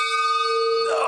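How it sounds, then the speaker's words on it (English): A bell in a haunted attraction rings with steady, sustained metallic tones that hold through the moment, with voices and crowd noise rising toward the end. "there's that bell."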